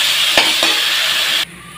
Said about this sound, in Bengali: এখন এটাকে একটু লাল করে ভেজে নিতে হচ্ছে